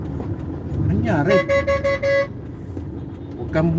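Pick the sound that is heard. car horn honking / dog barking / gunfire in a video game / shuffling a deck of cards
car horn honking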